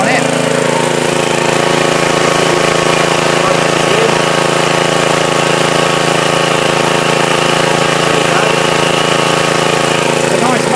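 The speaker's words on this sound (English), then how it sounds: "There's a John Deere. It's running really well." A John Deere lawn mower with a Kawasaki engine runs at a steady, loud, even drone close by, unbroken throughout.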